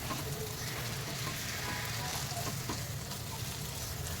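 Masala and oil sizzle steadily in a pan while frying for bheja masala, a dense, continuous hiss with faint scraping of stirring, close and fairly loud, with no speech.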